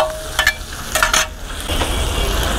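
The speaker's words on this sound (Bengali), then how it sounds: "তো প্রথমে দিলেন টমেটো সস, টমেটো, তারপরে পেঁয়াজ, কাঁচামরিচ, তারপরে তেলের মধ্যে দিয়ে নাড়াচাড়া" Tomato, onion and green chilies stirred in hot frying oil at a Bangladeshi street food stall, with a steady sizzle, a few scraping strokes of a utensil, and a roar that swells near the end.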